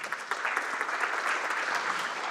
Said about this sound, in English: And again, a round of applause